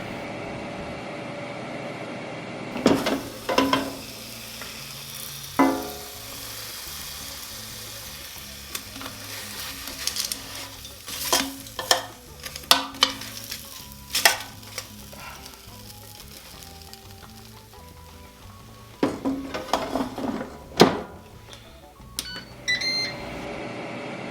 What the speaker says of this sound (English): We're going to be cooking it at 400 degrees on our air fryer, 7 minutes per side.